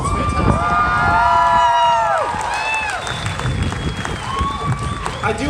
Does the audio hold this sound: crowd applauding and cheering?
yes